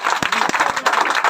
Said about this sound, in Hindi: ताली बजा भैया